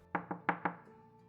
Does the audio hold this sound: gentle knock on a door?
yes